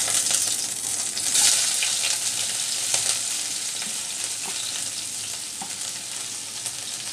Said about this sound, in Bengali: এই তো আমি ফ্রাই প্যানে অল্প পরিমাণে তেল দিয়েছি